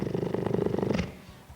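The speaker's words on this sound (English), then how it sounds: "That's a purr." A big cat, held close to a microphone, purrs loudly in a fast, rough, growl-like pulsing rhythm for about a second before it trails off into quiet.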